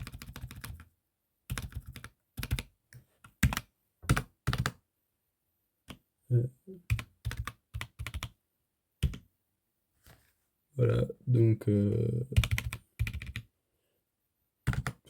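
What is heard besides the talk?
typing on mechanical keyboard with deep thock switches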